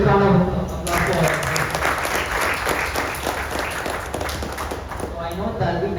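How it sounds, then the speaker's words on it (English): An audience gives a big round of applause at a blockchain talk, a dense, sustained patter of many hands clapping that starts just after a brief voice and continues evenly, fairly close and full. "Once again, big round of applause for"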